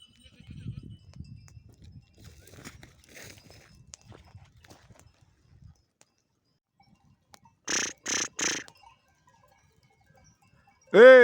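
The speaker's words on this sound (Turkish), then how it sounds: "Bak geliyor arkadaşlar koyunlar" Quiet background voices and rustling in a village, then three short, loud sheep bleats in quick succession as lambs reunite with their mothers, with another loud bleat cut off at the end.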